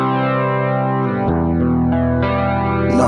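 Electric guitar chords ring out through a shimmering chorus effect with added distortion crunch, loud and sustained, with a few chord changes and no voices.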